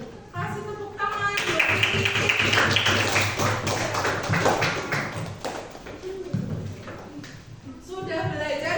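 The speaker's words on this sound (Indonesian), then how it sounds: "Kasih tepuk tangan" Classroom applause from students, a dense burst of many hands clapping that swells and sustains for several seconds, with children's voices mixed in before fading.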